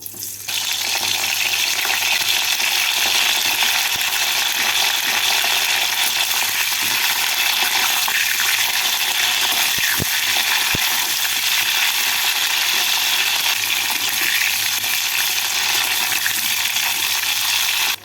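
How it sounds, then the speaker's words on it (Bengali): Cauliflower pieces fry in hot white oil in a wok, giving a steady, crackling sizzle that holds for the whole stretch, broken by a couple of sharp metallic clinks near the middle. "কড়াইতে দিয়ে দিচ্ছি পরিমাণ মতো সাদা তেল তেলটাকে ভালো করে গরম করে নিলাম এবার এর মধ্যে ফুলকপিগুলোকে দিয়ে হালকা করে ভেজে তুলে নেবো"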